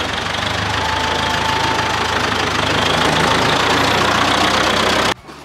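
A tractor engine idles loud and close with a steady, unbroken rumble while work is under way on a meadow for a new stable. It runs evenly for about five seconds, then cuts off abruptly.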